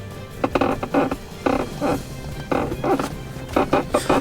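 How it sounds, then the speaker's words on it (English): Repeated short plastic squeaks and creaks in uneven bursts, close by, as Chevrolet Trailblazer SS interior trim is pressed by an elbow and released several times. "you'll get squeaks and sounds and stuff like that"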